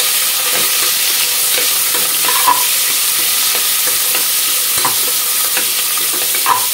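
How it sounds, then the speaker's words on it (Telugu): Sliced onions sauté over high heat in a pan, giving a loud, continuous sizzle with occasional scraping stirs and clinks throughout, with no talk. "ఓకే అండి, ఉల్లిపాయలు కొంచెం మగ్గినాయి అనమాట."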